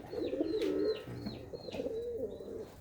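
Pigeons coo close by in soft, repeated rolling calls, several overlapping phrases over a few seconds, with faint chirps in the background.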